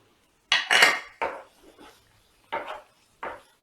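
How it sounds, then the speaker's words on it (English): A utensil clanks and scrapes against a pan as paneer pieces are mixed. Several sharp, close metallic knocks come in short bursts, with quiet pauses between them and no talking. "Now simply we are going to add our paneer pieces. Give it a good mix."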